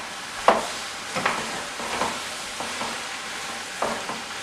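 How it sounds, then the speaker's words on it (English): Spaghetti squash being stirred into a sundried tomato bake in a pot, a low sizzle under a string of separate scraping, clacking spoon strokes, close and fairly quiet with no speech. "you're just going to mix it up and kind of blend it all"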